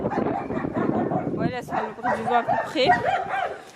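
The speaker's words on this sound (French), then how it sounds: "les chiens qui aboient" Dogs bark and yip in the background behind someone talking, with the sharper barks bunched in the second half over light wind noise.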